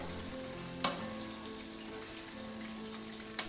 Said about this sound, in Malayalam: ഇപ്പോൾ നമ്മൾ മിക്സ് ചെയ്ത് വെച്ചിരിക്കുന്ന ചിക്കൻ നമുക്ക് ഓരോന്നോരോന്നായി എണ്ണയിലേക്ക് ഇട്ട് കൊടുക്കാം.